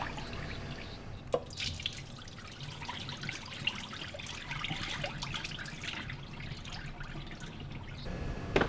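Rice for sushi being rinsed under a running tap in a kitchen sink, a steady close trickle and splash of water with a few sharper drips and clinks of grains against the bowl.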